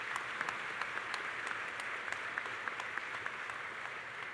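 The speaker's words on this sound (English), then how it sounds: "Can we give them a round of applause?" A commencement ceremony audience applauds international students, a sustained wash of clapping with a few sharp, distinct claps standing out from the steady crowd.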